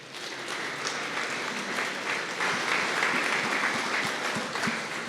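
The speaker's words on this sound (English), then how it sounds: "Let's give him a round of applause." Audience applause at a Startup Grind Wichita event as the president of Cox Machine is brought on stage, a steady dense wash of clapping from a large crowd, sustained and fairly loud throughout with no speech over it.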